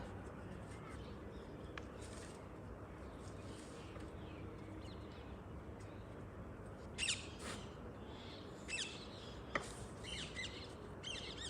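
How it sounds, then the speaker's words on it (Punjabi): Birds perched in trees give a few scattered squawks and chirps against a steady wash of background noise, with faint voices in the distance. "ਦੇਖੋ ਜੀ ਪੰਛੀਆਂ ਦੀਆਂ ਆਵਾਜ਼ਾਂ ਕਿੰਨੀਆਂ ਸੋਹਣੀਆਂ ਦਰਖਤਾਂ ਦੇ ਉੱਪਰ ਨਾ ਪੰਛੀ ਉਹ ਪੰਛੀ ਬੈਠੇ ਨੇ"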